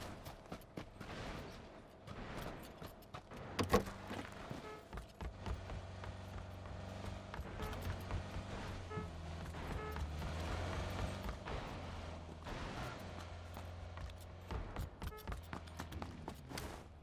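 Vehicle engines revving in a PUBG match, a dense mechanical drone under bursts of gunfire and clanking effects, steady and busy throughout, with faint voices now and then.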